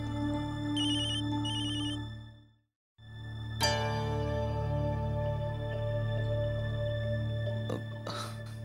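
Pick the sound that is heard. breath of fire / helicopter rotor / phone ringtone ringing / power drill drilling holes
phone ringtone ringing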